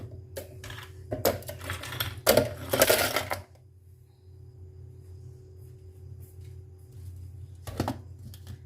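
Ice cubes clatter into a glass for a mint margarita drink, several sharp clinks in a quick burst early on, then a quiet stretch and one last clunk, over a low steady hum.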